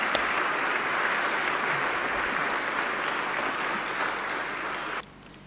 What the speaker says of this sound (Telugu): అందరూ చప్పట్లు కొట్టి దేవుని స్తుతిద్దాం.